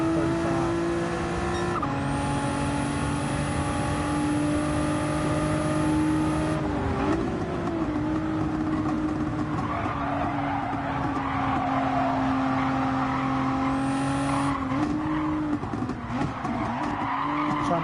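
Nissan GT-R R35 racing in a video game: a close engine drone shifts pitch through gear changes, with sustained tire squeals and skids and a brief high whine twice, loud and continuous.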